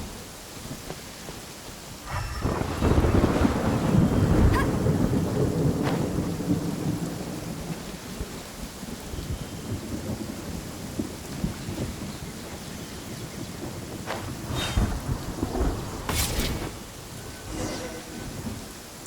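Heavy rain and rumbling thunder in the Genshin Impact game world near Mondstadt, with a loud roll of thunder early on, steady downpour throughout, and sharper crackling strikes later.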